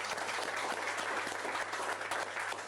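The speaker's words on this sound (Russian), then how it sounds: "Надо аплодировать уже" Steady audience applause at a community news program, many hands clapping in a dense, continuous wash that holds at an even level throughout with no voices standing out.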